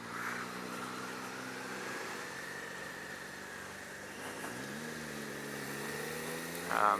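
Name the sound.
Suzuki SV650 motorcycle engine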